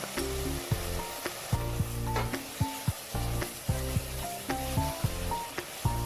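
Green chilies frying in hot oil with soaked amla for an amla curry, a steady close sizzle with periodic clanks and scrapes of a spoon stirring the pan in an uneven rhythm.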